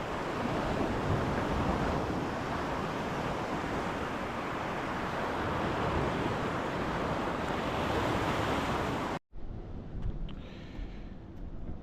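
Steady roar of ocean surf at Boca Chica Beach near the jetties, loud and continuous with wind buffeting the microphone, cutting abruptly to a quieter wash near the end.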